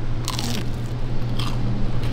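Someone bites into crunchy fried chicken, and a loud crisp crunch and crackle carry on steadily for about two seconds, close to the mic with no talking.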